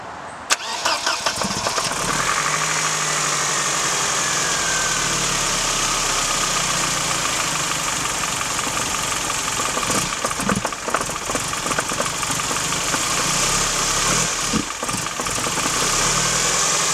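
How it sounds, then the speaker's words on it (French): A cold car engine cranks and catches, then settles into a steady, loud idle with a faint knocking texture that holds alone, with no talk, for the rest of the stretch. "on va essayer de lui faire un petit démarrage à froid pour voir ce que ça donne"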